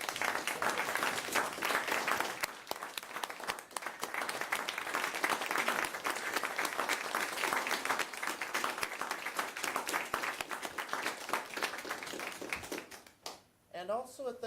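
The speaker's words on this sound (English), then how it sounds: "give John a round of applause" A round of applause from the audience at a county commissioners court meeting, moderately quiet, even clapping sustained for over ten seconds before fading, with a voice coming in near the end.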